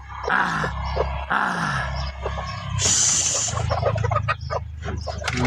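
Hens kept as breeding stock for local chicks give off throaty clucks and grunting calls, loud and close, with a sharper squawk partway through amid continuous farmyard noise.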